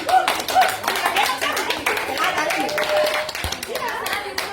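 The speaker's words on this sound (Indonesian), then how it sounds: "kita beri aplaus." An audience of teachers claps together in a room, with steady, dense applause running throughout and voices mixed in underneath.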